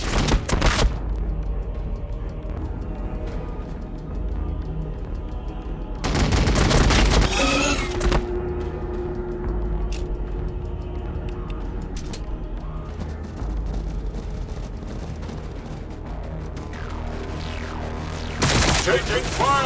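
Gunfire and bursts of explosions in the Warhammer 40,000: Battlesector battle game, with a heavy volley near the middle and another near the end over a constant din of combat.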